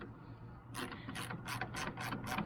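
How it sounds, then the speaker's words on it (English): A 1/4-inch ratchet with a 10mm socket turning a headlight bolt on a Ford F-150, giving a close, quiet run of rapid clicks in short repeated bursts. "I'm just going to use a 1/4" ratchet with a 10mm socket."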